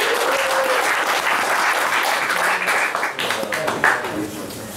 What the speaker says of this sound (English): now a big round of applause, please, for Cameron and John from Hashicorp.